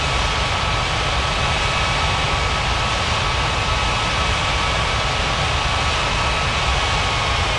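Jet airliner engines roaring steadily at full thrust during takeoff at a busy international airport in an air traffic control game, a loud, dense broadband rumble with a faint whine, unbroken throughout with no speech.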